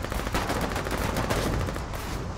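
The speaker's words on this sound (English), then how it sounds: "Lucy, shoot!" Sustained gunfire in the war video game Foxhole in a trench battle, rapid machine-gun style bursts with a rolling rhythm at moderate loudness, alone without talk.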